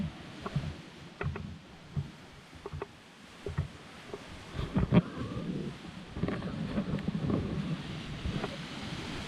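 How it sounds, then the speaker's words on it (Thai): Rough ocean waves break on a sandy beach at Rayong, Thailand, after rain, a steady broadband wash with irregular surging swells and gusts of wind buffeting the microphone. "เสียงคลื่นกระทบหาดทราย"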